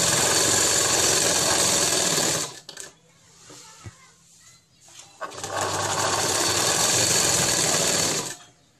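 A sewing machine stitches dhoti shalwar fabric with a one-inch margin, running in two loud, steady whirring bursts separated by a quieter pause in which faint talk is heard.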